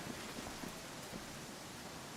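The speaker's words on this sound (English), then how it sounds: "Is it seriously still raining?" Steady rain falls in a video game, a constant soft wash of noise with faint patter and no talking over it.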